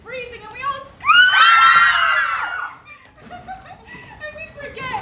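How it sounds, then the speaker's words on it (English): Several girls on stage burst into a loud, shrill group scream as if under freezing pre-showers, lasting about two seconds, with giggling and chatter before and after. "the water is freezing and we all scream!"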